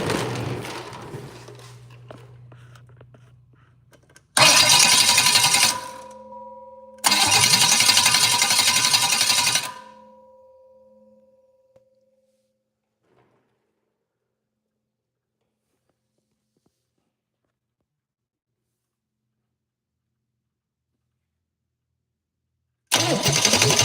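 Car engine with a Holley Sniper 2 setup being cranked by its starter, two loud bursts of a couple of seconds each, dragging slightly, then a long quiet stretch and another burst at the end.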